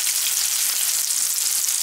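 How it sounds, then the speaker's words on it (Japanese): Hamburger patties frying in a pan give a loud, steady, continuous sizzle with no breaks, close up and with no voices. "こんがりと美味しそうに焼けてますね。"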